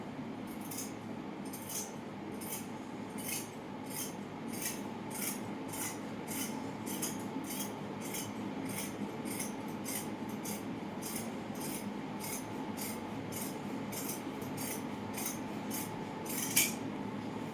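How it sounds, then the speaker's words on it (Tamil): Scissors cut through silk skirt fabric in a steady, evenly spaced series of crisp snipping strokes over a constant low background hum. "இதை அப்படியே நான் கட் பண்ண போறேன்"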